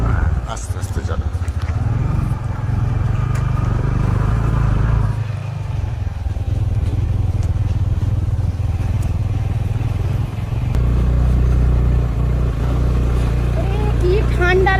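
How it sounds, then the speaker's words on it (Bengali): A motor scooter is ridden outdoors on a cold day, its low engine drone and wind rumble continuous throughout while voices talk over it. "আমি অনেক দিন পর স্কুটি চালাচ্ছি, তাও আবার আমার ড্যাডের"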